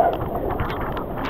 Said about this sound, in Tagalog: Malakas ng hangin.